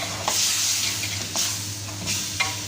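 A pan of keema with spices and green chillies is stirred, with three or four scraping strokes over a steady close sizzle of frying.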